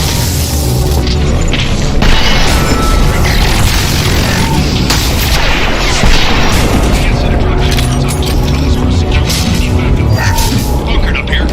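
Dense, continuous heavy gunfire and booming explosions from a Mass Effect 2 battle on Insanity difficulty, loud and relentless throughout, with voices speaking over the combat.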